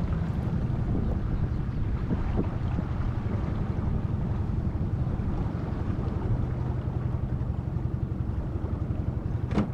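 A small motorboat engine drones steadily at close range as the boat heads in toward a dock while salmon fishing, with a dense low rumble and wind buffeting the microphone throughout.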